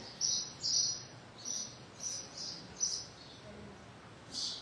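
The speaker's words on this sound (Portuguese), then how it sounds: "Céu azul, os morros, os passarinhos cantando." Birds sing outdoors, heard through a church window under a blue sky with hills around: a series of soft, high chirps repeats at a steady pace over a faint, hissy background.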